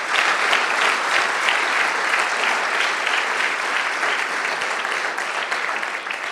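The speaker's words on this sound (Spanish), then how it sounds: "Regálale una ofrenda de palmas al Rey." Sustained congregational applause offered as praise during a church service, a dense, steady wash of many hands clapping nearby that stays loud throughout without pause.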